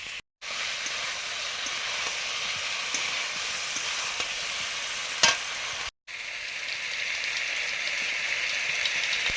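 Panch phoron and dried red chillies hiss and crackle in hot mustard oil, a loud continuous close-up sizzle with two brief dropouts, while tempering a sour fish dish.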